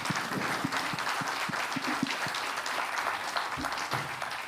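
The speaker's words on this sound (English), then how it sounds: "We can give them a round of applause" Conference audience applauding at the close of a session, a dense, steady wash of many hands clapping that fills the room evenly throughout.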